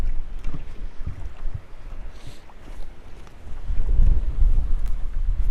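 A Minnkota Terrova 12-volt trolling motor runs on a boat, a low steady drone mixed with wind buffeting and water noise, close to the microphone and rising slightly toward the end, with no talk.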